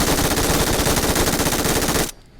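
An MG3 machine gun in PUBG Mobile fires one loud, continuous, rapid burst for about two seconds, then cuts off abruptly into quiet.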